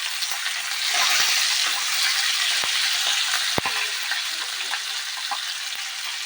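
Chicken with chopped green chillies and capsicum sizzles loudly in a hot pan, a dense steady hiss broken by occasional scraping knocks of a stirring spoon.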